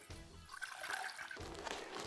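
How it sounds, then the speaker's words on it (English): A vinegar and water brine seasoned with sugar and salt is poured into a container, making a soft, close trickling splash for about two seconds. "Stir that up and pour that into here."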